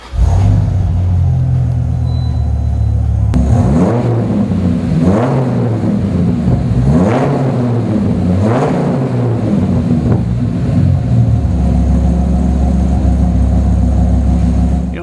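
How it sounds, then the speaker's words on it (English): A 450hp 2001 Dodge Viper RT/10 with a low-mileage engine starts up and revs several times in rhythmic blips, then settles into a deep, loud, rumbling exhaust idle close by. "let me start it up for you so you can hear what it sounds like, because this has a great sounding exhaust"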